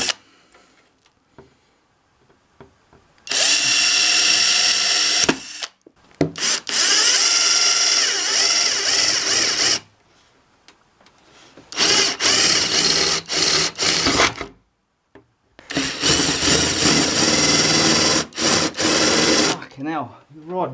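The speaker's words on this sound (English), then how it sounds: "That's if the drill bit's not blunt." A power drill cutting through a PC case to make room for a cooler's cold plate, loud whining bursts of a few seconds each with short pauses between and faint clicks in the gaps.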